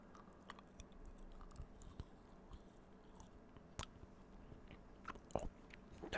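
Crunchy Thorntons winter fudge is bitten and chewed close up, with soft irregular crunches and moist chewing over a low, quiet background.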